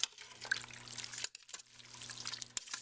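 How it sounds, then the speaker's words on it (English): A spoon stirs homemade rustic cabbage soup in a pot, making soft liquid sloshing and gentle wet swirls that come close and quiet, with a brief pause midway and no talk. "Alright, we're going to give this a quick stir."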